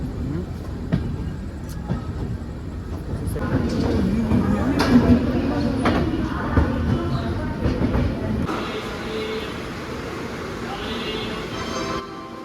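A passenger train runs along while heard from inside a crowded general compartment, with a continuous low rumble and rhythmic clatter of wheels under voices that talk throughout.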